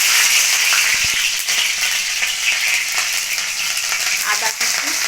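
Chopped green chilli dropped into hot oil while making pasta: a loud, continuous crackling sizzle, with a couple of sharp utensil knocks early on and stirring noises.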